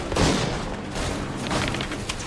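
Musket volley fire crackles and booms in a battle in Assassin's Creed 3, a dense, continuous spread of distant and nearer shots with no clear pauses.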